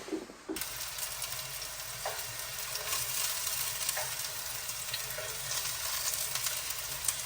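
Meatballs fry in a non-stick pan with a steady, close hiss of sizzling oil that starts abruptly and continues evenly, with a few faint knocks.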